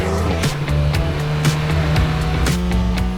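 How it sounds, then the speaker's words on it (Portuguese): An Alpine sports car with a central exhaust and a 300-horsepower 1.8 turbo petrol engine driving on a Lisbon road, giving a steady loud engine drone with rising and falling revs and brief gearshift dips, with no talk. "O escape é central e produz um som bastante característico."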